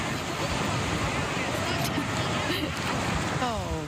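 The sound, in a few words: ocean waves at Dog Beach, San Diego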